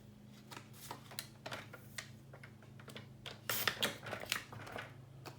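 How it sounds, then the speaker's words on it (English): Scissors trimming paper for a small handmade mini album, a series of quiet crisp snips and slicing cuts close by, getting busier toward the end, with no talking. "Now I'm just going to trim up top to bottom."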